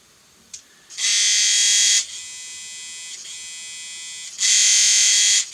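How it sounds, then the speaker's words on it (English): A faulty electric motor spins up in short bursts, a loud high whirring buzz that starts, eases to a lower drone, then surges again before stopping. "something not quite right with that motor"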